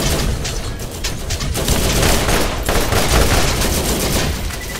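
Scorpio turret in Borderlands firing rapid, loud bursts of automatic gunfire, dense overlapping shots with booming impacts that continue without pause.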